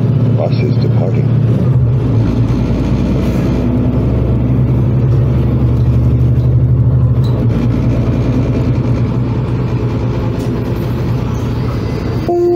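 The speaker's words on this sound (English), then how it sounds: "Please hold on. The bus is departing." Honolulu TheBus #6027 on Route 20, a city bus pulling away from a stop, heard from inside as a steady low engine drone that builds and shifts gear, continuous and close, with an onboard announcement voice over it.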